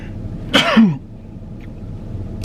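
A single sharp, close sneeze bursting out of a quiet room, over in under a second.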